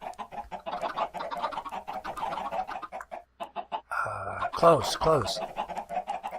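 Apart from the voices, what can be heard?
chickens clucking in a video game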